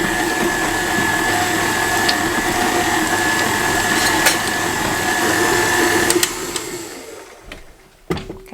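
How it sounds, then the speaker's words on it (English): An electric mixer whirs steadily and loudly up close while it blends maple flavoring and salt for candy roll, then winds down near the end with a couple of knocks. "So we're going to mix that together."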